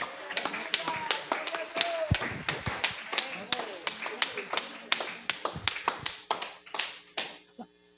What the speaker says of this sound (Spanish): Le das un fuerte aplauso al Señor.